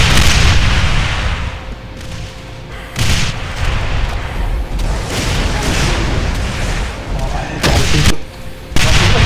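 Heavy gunfire rips through Brutal Doom, coming as loud, close bursts of shots and booming blasts that repeat in waves with brief gaps between them.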